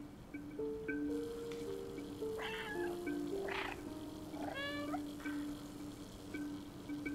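A cat in the video game Stray meows several times over a steady low background of game music, with wavering, rising calls, fairly close and clear.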